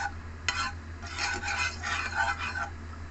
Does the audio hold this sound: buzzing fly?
no